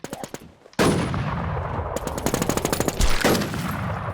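Rapid automatic gunfire in a battle royale video game: a short burst of distinct shots, a brief pause, then a loud, sustained stream of close, fast shots with heavier bursts near the end.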